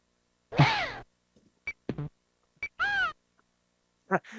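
In Silhouette Mirage, defeating a specter triggers a game sound: a handful of short, wailing cries that sound like meows or crow calls. They are spaced irregularly, with small clicks in between, and play loud and clear with no speech.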